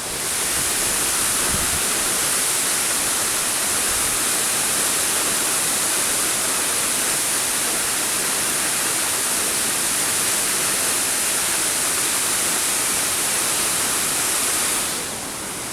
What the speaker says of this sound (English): one more go at the noise of the falls here